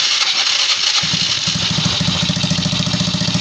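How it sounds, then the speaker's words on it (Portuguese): A Yamaha Neo 115 motorcycle fitted with a YBR 125 carburetor starts up after about a second, then settles into a steady, close, rhythmic idle putter over a constant background hiss. "Vamos tentar funcionar aqui a máquina"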